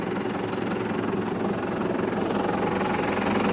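A Zetor 7011 tractor engine runs steadily under load during stubble ploughing after oats, a dense continuous rumble with a throbbing low pulse and no talk over it.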